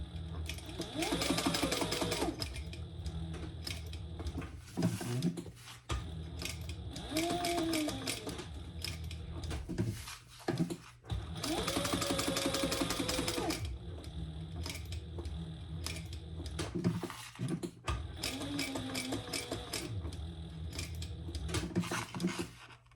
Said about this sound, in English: Okay, so I'm gonna sew that on.